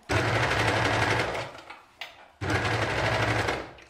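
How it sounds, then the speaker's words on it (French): An overlocker serger stitches legging fabric in two fast, buzzing runs, with a short pause and a small clunk between them. It is close and loud. "moi je vais le faire à la surjeteuse"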